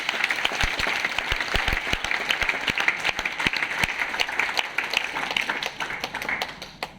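An audience at a Modicare business meeting applauds: dense, sustained clapping from a crowd, fairly close, gradually thinning and fading toward the end.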